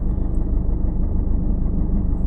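Car pulling off in first gear during a driving lesson, a steady low engine rumble heard from inside the cabin, loud and even with no talk.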